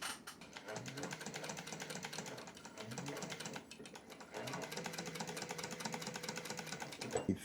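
A sewing machine stitching seat fabric for a custom Summit tree stand seat, running in a steady rapid mechanical patter with a few short pauses and a brief clunk near the end.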